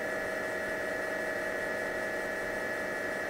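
A machine spindle turns at low speed, about 500 RPM, during center finding, producing a steady, even hum with a constant tonal whine and no talking.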